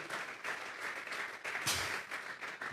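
A church congregation claps together, the applause coming in uneven bursts with one sharp louder surge partway through, fairly faint and distant, with no talking over it.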